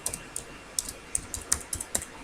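Quick, irregular clicks of a computer keyboard as someone types a short line of Python code, the keystrokes crisp and close with no talking.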